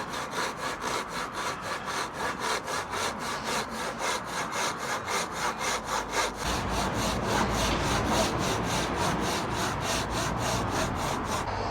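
A Temple Tool hand saw cuts through wood in steady, fast back-and-forth strokes, each rasping pass repeating evenly for the whole stretch. The sawing is close and continuous, and the strokes get slightly heavier and deeper toward the end.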